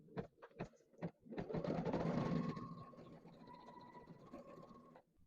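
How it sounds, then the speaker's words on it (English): Kimberbell embroidery machine stitching the small center of a freestanding lace flower, a close, busy mechanical whirring and clatter that starts after a few sharp knocks and runs steadily, easing slightly toward the end. "it doesn't shift around when it's stitching that little center"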